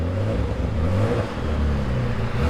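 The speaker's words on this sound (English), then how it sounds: "It actually sounds pretty mean." An Audi B5 fitted with GT28 turbos idles and revs nearby, a deep, rough, steady engine rumble with slight swells in pitch and no voices.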